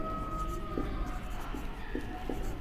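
Chalk or marker strokes scrape across a classroom board in short, steady bursts beneath a constant room hum, close and moderately loud.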